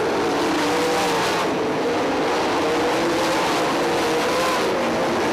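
410 sprint cars race at Lawrenceburg Speedway, a dense, loud roar of several engines droning continuously at racing speed, pitch wavering slightly as the cars circle the track.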